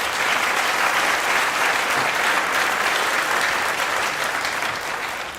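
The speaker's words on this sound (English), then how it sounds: "Let's give them another round of applause" A large crowd at the Buffalo AKG Art Museum preview applauds loudly and continuously, a dense sustained ovation that only begins to taper in the last moment.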